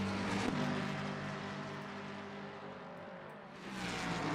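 Racing cars on the Red Bull Ring circuit roar steadily in the distance, a continuous broad engine drone that dips briefly and then swells again.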